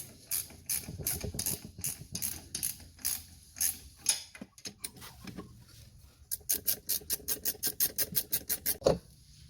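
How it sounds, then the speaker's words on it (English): Ratchet spanner tightening a shock absorber on a Nissan Patrol, bursts of fast clicking strokes near and crisp, with a brief pause and clunks midway before another rapid run of clicks. "you can normally hold it by hand and just send your ratchet spanner to home"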